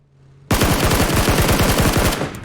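Loud, rapid automatic gunfire in PUBG bursts in after a quiet moment, a fast continuous rattle of shots that lasts about two seconds.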